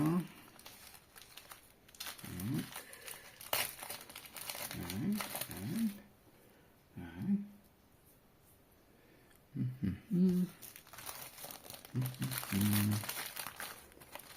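Paper crinkles and rustles close up as a postal envelope holding a smaller envelope of stamps is opened, in short bursts mixed with someone talking.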